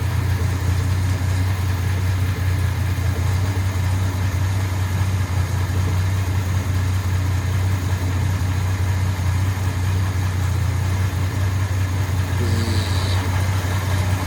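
A Jaguar MKII engine idles steadily for the whole stretch, a loud, constant low hum with an even throb and no change in revs; a brief faint rattle appears near the end.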